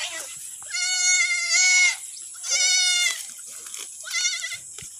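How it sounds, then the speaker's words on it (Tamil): Young goat kids bleat in three separate wavering cries, close and clear, with short quiet gaps between them. "மூணு ஆட்டுக்குட்டியும் ஒன்றா விட்டு பார்க்கலாம்."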